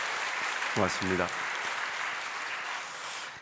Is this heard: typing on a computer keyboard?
no